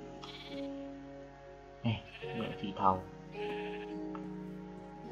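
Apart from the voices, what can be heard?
sheep bleating in the video game Minecraft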